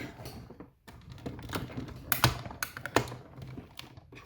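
Stampin' Up Cut and Emboss die-cutting machine being cranked by hand to cut seasonal label dies, a run of irregular clicks and clunks with a couple of sharper knocks, close and fairly quiet.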